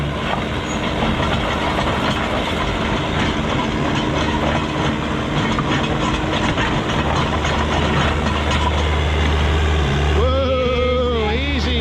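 A Detroit Diesel 353 engine idles loud and steady while warming up in a cold forest at minus fifteen, a deep continuous rumble close by with a rising whine near the end.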